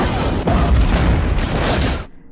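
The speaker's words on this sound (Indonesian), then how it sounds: "Meledak." A loud, dense explosion from the film Deep Blue Sea booms and roils for about two seconds with crackling debris, then cuts off abruptly.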